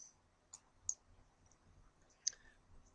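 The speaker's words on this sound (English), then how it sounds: "I'm going to click on Browse" A few soft, sharp computer mouse clicks, spaced apart, sound in a quiet room with no talking.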